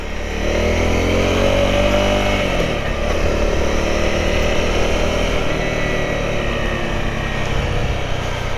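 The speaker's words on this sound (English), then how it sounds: "I do like actually how quiet this bike is." A Honda CRF 250L motorcycle engine runs steadily up close, a loud continuous drone with a shift in pitch as the revs change partway through.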